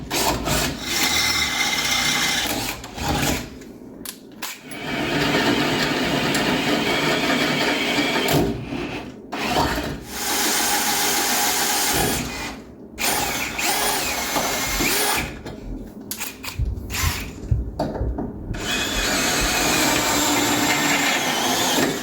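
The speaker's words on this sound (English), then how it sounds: "And now we just drilled up to" A power drill bores a hole in a 1973 Dodge Dart up to 9/16 inch during a slant six to V8 conversion, whirring in several loud bursts separated by short pauses.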